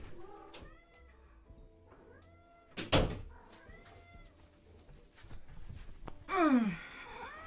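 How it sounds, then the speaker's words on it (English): A house cat meows several times from behind a closed door, wanting to be let in; drawn-out, rising-and-falling mews spread across the stretch, with a louder bump near the middle and a sharp, strained cry toward the end. "My cat wants to come in and attack my dress again"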